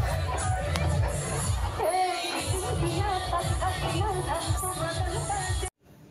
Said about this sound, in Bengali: ওখানে গিয়ে দেখো কত ভিড়